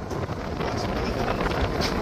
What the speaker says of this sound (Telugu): ఇగో ఇక్కడ బయట నుంచి గాలి వచ్చేది గొట్టం.